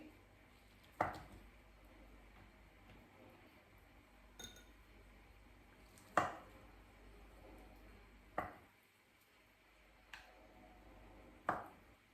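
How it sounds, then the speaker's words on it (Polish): A knife cuts boiled eggs into quarters on a board for a broccoli salad, giving six sharp, separate clicks of the blade striking the board at irregular intervals against a quiet kitchen background. "Jajka kroimy na ćwiarteczki."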